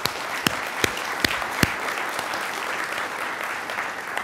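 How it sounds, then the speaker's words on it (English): Audience applause for Fathom at a Processing community day event hosted at the MIT Media Lab, a steady wash of many hands clapping with a few sharp, louder claps standing out near the front. "So I just want to give a round of applause for Fathom, folks."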